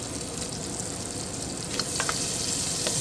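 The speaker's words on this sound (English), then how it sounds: "Okay, I'm going to throw in my butter." Butter hitting a hot pan for garlic butter shrimp with stir-fried cabbage, a steady close sizzle and crackle with a few sharper pops near the end, no voices.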